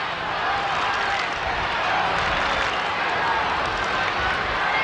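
A large crowd at a 1989 Australian football match between St Kilda and Fitzroy roars and applauds in a dense, continuous wash of cheering that holds steady throughout, heard from within the stadium.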